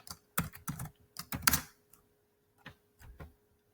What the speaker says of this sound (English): I'm going to type the word name in the space for the student to type in his or her name.